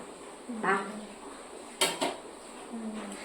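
A carrot drops into a kitchen bowl with a few soft, light knocks. The sound is quiet and close, with faint room hum between the hits.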